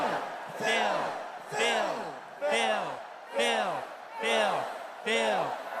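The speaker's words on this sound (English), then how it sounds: "The crowd is going wild." A large outdoor crowd at the Punxsutawney Phil groundhog emergence chanting and cheering in six evenly spaced, loud rhythmic swells of massed voices.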